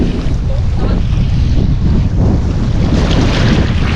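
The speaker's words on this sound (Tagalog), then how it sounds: "Alon." Sea waves and wind roll onto a shore where seashells are being gathered, a steady, loud broadband roar of surf and gusting wind that holds constant throughout, with no voices.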